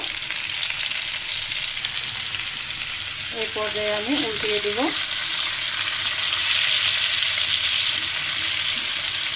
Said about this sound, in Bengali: এই তেলের মধ্যে পটলটাকে আমি ভেজে নিব